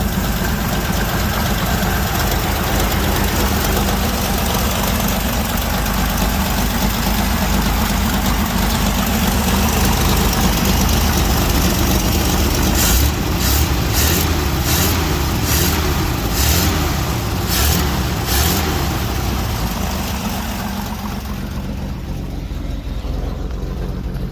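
Engine of a 1977 International dual cab 4x4 truck idling with an exhaust leak: a steady, close rumbling idle with a rough ticking edge, a brief run of sharp clicks midway, then a slight drop in level near the end.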